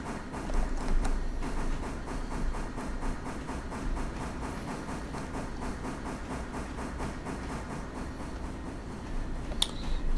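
A train in the Railroader game rolls steadily while picking up its caboose, giving a continuous rumble and hiss with regular rhythmic clacking of wheels, and a sharp metallic clank just before the end.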